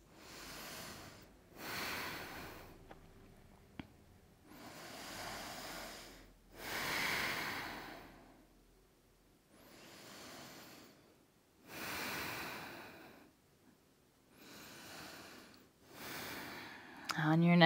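Slow, deep yoga breaths during a vinyasa flow, each inhale and exhale a soft airy rush, repeating in a calm rhythm of about eight swells with quiet pauses between.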